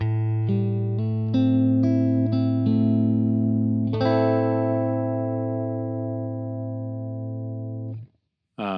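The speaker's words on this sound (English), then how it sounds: "Here's a panner effect." Electric guitar notes ring out through a warbling, shifting panner effect from a Line 6 M9, a few picked notes then a sustained chord that slowly fades before a brief cutoff.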